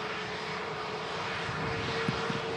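Steady roar of a jet airliner landing at Manchester Airport, a continuous broadband engine rumble with a faint whine, heard from a distance with no talk.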